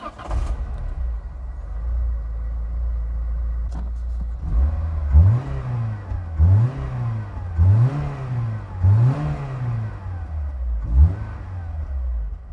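A Peugeot 106 S16 engine with its stock exhaust idles low, then revs up five times in sharp, rising bursts that fall back each time, heard close and loud with no talking.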